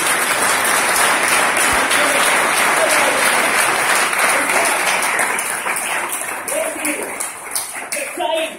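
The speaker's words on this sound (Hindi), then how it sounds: "तालियां होनी चाहिए" Audience applause after a motivational speaker's remark, a dense steady wash of many hands clapping that fills the room, fading slightly toward the end with a few sharper claps standing out.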